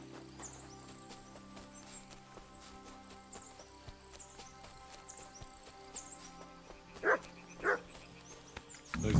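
A dog barks twice in the medieval open-world game Kingdom Come: Deliverance 2, two sharp, fairly close yelps standing out over a steady ambient game soundscape with birds and crickets.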